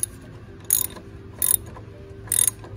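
A ratchet clicks in three short bursts while tightening the oil drain plug back up during an oil change on a 2013 Dodge Dart, close and clear over a low background hum.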